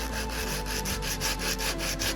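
By hand, someone gently scrapes and rubs gasket surfaces clean on a Mercury 650 outboard engine block, making a steady, close scratchy rasp in rhythmic strokes.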